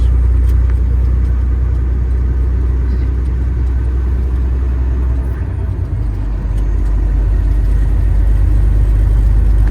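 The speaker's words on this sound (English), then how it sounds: "I can merge in safely and I can bring it right up to speed so we get on the highway without impeding traffic" A car on a highway on-ramp, building speed to merge into traffic: a steady, loud low engine and road rumble with tyre whir that holds constant throughout, dipping slightly midway before swelling again.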